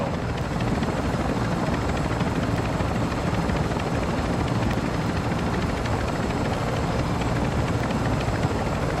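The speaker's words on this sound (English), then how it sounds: "that helo is fueled and ready to provide exfil." Constant whirring rotor drone of a fueled exfil helicopter in the video game Call of Duty DMZ, steady and loud-ish throughout with no voices.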